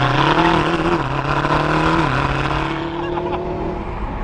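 Two cars, a McLaren Speedtail and a Tesla Model S, accelerate hard side by side in a race, a loud sustained engine and drivetrain roar with rising tones that climb and shift before easing slightly toward the end.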